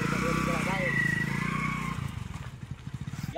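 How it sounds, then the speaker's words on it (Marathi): A vehicle engine running just after it finally starts, a loud steady idle that turns into an uneven, pulsing putter toward the end, with voices talking over it. "चला, फायनली झाली बाबा गाडी चालू."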